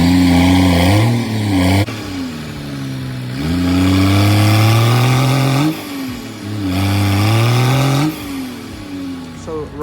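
A gravel delivery truck stuck in a rut at a ranch, its engine revving hard in repeated loud surges and dips as it strains for traction, close and dominant.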